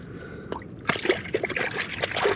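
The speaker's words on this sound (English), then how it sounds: "Nice looking trout. Let's throw him back in the water here." A trout is released back into lake water, a soft splash followed by trickling and sloshing, close and fairly loud over outdoor background noise.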